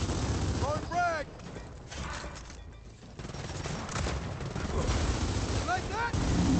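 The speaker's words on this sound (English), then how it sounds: "Throwing frag!" Gears of War frag grenade blast mixed with rattling gunfire in a loud, continuous battle din, with voices calling out over the combat.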